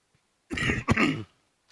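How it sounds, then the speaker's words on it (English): A single close, rough throat-clearing cough, two quick harsh bursts in a row, then silence. "I'm still coughing"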